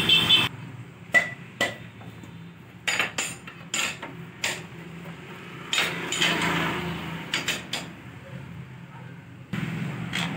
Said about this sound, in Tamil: நம்ம வீல் நட்டை வந்து லூஸ் பண்ணுவோம்